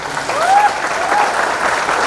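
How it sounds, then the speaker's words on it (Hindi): Audience applauding at an event celebrating a Miss India 2020 runner-up, a steady, fairly loud wash of clapping from a crowd. "ओम प्रकाश जी के लिए एक बार फिर से हाथ उठाकर हवा में जोरदार तालियां होनी चाहिए।"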